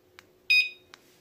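A tear gas home alarm system gives one short, bright beep as it is armed, with faint clicks just before and after in a quiet room.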